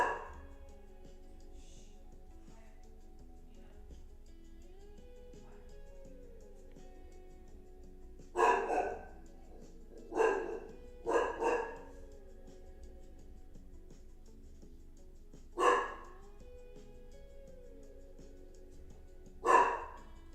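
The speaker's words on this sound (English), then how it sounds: "I might have to mute my microphone if he continues to bark" A dog barks in short bursts, about six sharp woofs spread irregularly across the stretch, some paired close together, fairly near and loud against a quiet indoor background with no talking.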